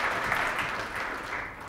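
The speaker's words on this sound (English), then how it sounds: "Give them a warm applause." An audience at a talk on banks and bonuses gives warm applause, a dense, continuous patter of clapping that holds steady and then eases slightly toward the end.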